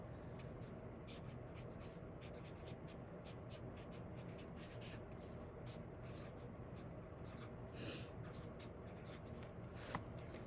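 Pen or pencil strokes scratch faintly on paper in a quiet room, making soft repeated scribbles over a low background hiss.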